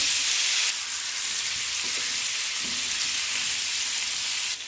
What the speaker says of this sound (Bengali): আগে আলু ভেজে নেব আলুটা দিয়ে দিচ্ছি